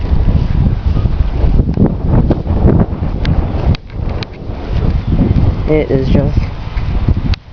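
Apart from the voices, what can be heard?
strong wind outdoors after a wind storm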